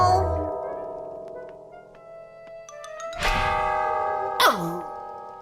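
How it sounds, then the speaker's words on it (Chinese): Floating bells in a children's cartoon bell tower ring with sustained, overlapping tones, then two louder bright strikes ring out near the end. "每一个铃铛都有美妙的铃声"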